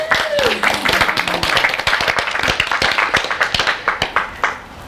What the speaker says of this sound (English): I'm gonna clap for you